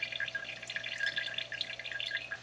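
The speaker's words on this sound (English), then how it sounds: "let this drain until the whey completely stops draining out or dripping at all" Whey drips from a cloth bag of draining homemade chevre cheese, a soft, close run of small rapid drips and trickles over a faint steady hum, with no talk.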